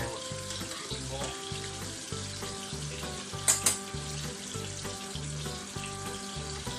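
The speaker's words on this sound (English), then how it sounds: "Remember, when you are deep frying things," Beancurd skin wraps deep frying in hot oil, a steady dense sizzle running throughout with a soft rhythmic bubbling underneath and a couple of brief sharp clinks midway; nobody speaks.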